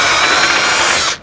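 Power drill roughing up the head of a rivet on a caravan's roll-out awning handle, a loud close steady whir lasting about a second before cutting off abruptly.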